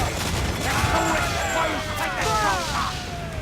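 A video game cannon volley goes off as a rolling burst of booms and crashes over ringing tonal effects, sustained for a few seconds.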